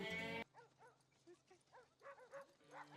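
A small dog in a Cowboy Bebop episode yips and whimpers in a string of short, high, closely spaced barks, quiet and slightly distant, after a brief loud burst of other sound at the start.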